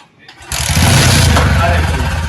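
An old-model motorcycle with an engine fault starts up after a short quiet moment and runs loud and close, a rough, dense mechanical roar.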